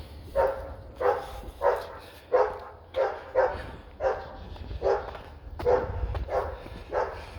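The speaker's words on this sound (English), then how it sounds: "There's a lot of dogs around here." Dogs bark repeatedly at a moderate distance, about a dozen evenly spaced barks over several seconds, with no voices.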